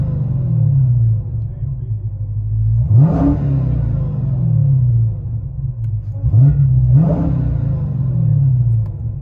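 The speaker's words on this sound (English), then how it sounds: "Dodge Hellcat Challenger with FLOWMASTER Super" A supercharged 6.2L HEMI V8 in a 2016 Dodge Challenger SRT Hellcat with Flowmaster Super 10 dual exhaust idles with a deep rumble inside the cabin, then revs sharply twice, each roar climbing and falling back to idle.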